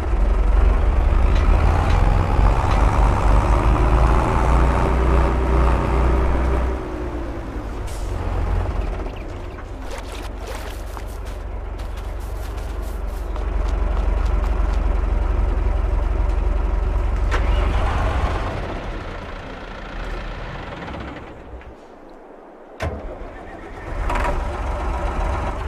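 Mahindra tractor engines in Farming Simulator 22 drone and rumble loudly as they pull a loaded trolley, with a heavy low hum that steadies and then drops near the end.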